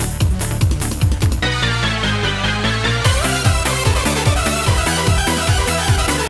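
A Eurobeat song plays loud with a driving four-on-the-floor beat, pulsing synth bass and bright synth lines, fuller after the opening bars.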